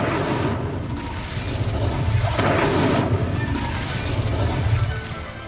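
Incendio fire spell cast in the video game Hogwarts Legacy, a steady roaring whoosh of flame with a booming swell in the middle, loud and sustained for several seconds with no talk.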